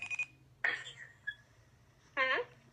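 An iPad ringing with short electronic tones in bursts, at moderate level in a quiet room with a low hum underneath.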